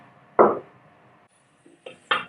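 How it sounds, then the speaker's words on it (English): Dry curry leaves dropped into an empty metal pan with the flame off, giving a few light crisp rattles and clinks, one near thump then two smaller clatters, no voices. "I'm putting these curry leaves onto an empty pan."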